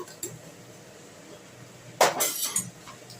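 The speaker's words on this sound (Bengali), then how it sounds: "এবার এটাকে আমি কিন্তু এবার ঢাকনা দিয়ে দিলাম" A lid is set onto a pan of okra with a short metallic clink and brief rattle, heard close and alone after a quiet stretch of faint room noise.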